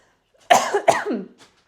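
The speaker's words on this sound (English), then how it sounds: "You want to clear your throat as well?" Two quick, rough throat-clearing bursts from someone with a cold, close and fairly loud, followed by a faint trailing breath.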